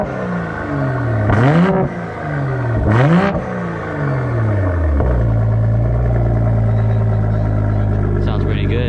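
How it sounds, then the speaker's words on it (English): A Toyota Supra at an outdoor car show revs its engine in two sharp climbing bursts, then settles into a loud, steady rumbling idle close by, with people talking nearby. "We have a Supra revving."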